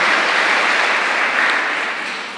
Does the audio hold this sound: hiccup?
no